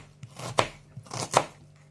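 Knife chops onion on a cutting board, with two pairs of crisp, close taps in a steady rhythm and no talking.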